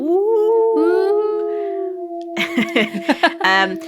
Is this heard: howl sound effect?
yes